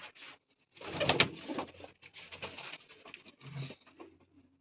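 Pigeons kept for flying contests coo nearby in soft, throaty bursts, several overlapping calls rising and falling with short pauses and a faint patter between them.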